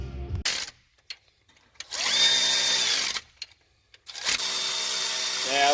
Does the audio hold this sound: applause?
no